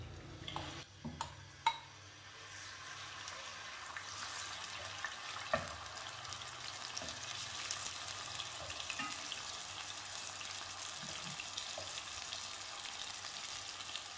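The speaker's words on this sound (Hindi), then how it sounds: "ऑयल ऐड करेंगे, मैरिनेटेड चिकन ऐड करेंगे।" Marinated chicken frying in oil in a pan, a faint, steady sizzle and hiss after a few clattering knocks at the start, with occasional soft clinks and no talk.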